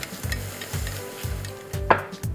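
Fried red tilapia pieces tossed briefly in a wok with chili and salt, giving a steady close frying sizzle with repeated rhythmic scraping strokes and one sharper clatter near the end.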